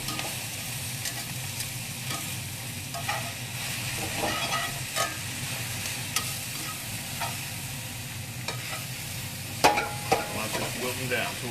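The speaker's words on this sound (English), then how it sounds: "cook off that spinach" Spinach sizzling and wilting in a hot pan, a steady close frying hiss with occasional stirring scrapes and clicks, no talking.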